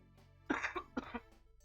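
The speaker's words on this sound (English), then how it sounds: "I have such a bad cough." A person coughs several times in close succession, harsh and throaty bursts heard near and alone.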